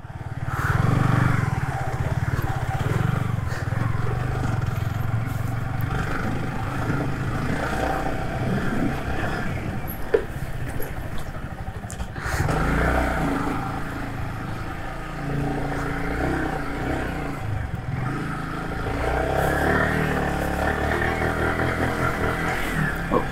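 A motorcycle engine strains while climbing a steep off-road slope, a loud continuous drone with shifting revs and occasional surges, close and sustained throughout with no talk.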